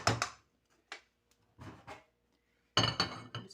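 Cooked food being dished out into a serving dish in a home kitchen: several short clinks and scrapes of a spoon against the pot and dish, in separate bursts with quiet gaps between.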